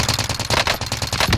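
Rapid machine-gun bursts fire in a video game, a dense, loud stream of close shots with no pauses and no talk.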